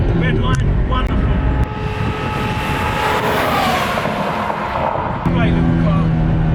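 Modified BMW E46 M3 engine revving hard on throttle out of a corner, a loud rising roar climbing toward the red line with a brief lift between gears, under wind and cabin noise.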